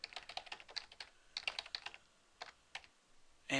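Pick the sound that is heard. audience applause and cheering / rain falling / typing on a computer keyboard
typing on a computer keyboard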